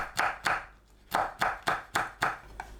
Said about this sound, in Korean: 파, 홍고추를 둥글게 썰어주세요